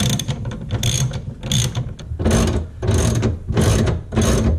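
A ratchet clicks rapidly in loud close bursts while removing nuts from the boot lid of a Mazda MX-5, with a steady back-and-forth rhythm of strokes.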